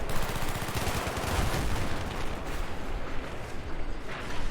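Dense, continuous gunfire in a Battlefield 3 single-player mission on Xbox, with rapid overlapping rifle and machine-gun bursts and booming impacts, loud and close throughout.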